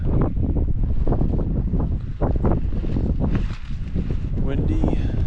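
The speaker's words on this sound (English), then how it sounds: "Windy." Gusty wind buffeting the microphone at a day-two mountain camp near a lake after rain, a loud, continuous rumbling roar with surging bursts and no other clear sounds over it.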